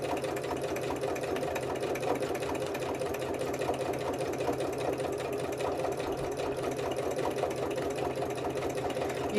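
A sewing machine runs steadily at a slowed, careful pace while stitching around a fabric circle for paper buttons, a close, continuous rapid mechanical whirring and clatter with no talk.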